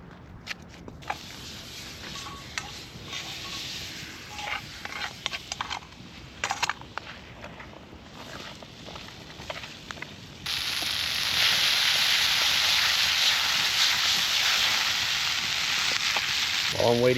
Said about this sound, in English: While I'm waiting for those potatoes and onions to cook